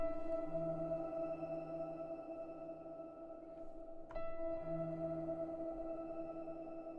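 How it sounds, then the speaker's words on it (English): A thin, high whine from the Eventide Crystals harmonizer app on iOS holds steady above sustained pitched tones, with a brief click near the middle and no voices. "so you can hear that little high whine in the background."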